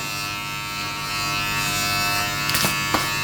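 A Manscaped Lawn Mower 3.0 Plus electric trimmer shaves hair with a steady, close, high-pitched motor buzz, broken near the end by a couple of brief scraping strokes. No one speaks.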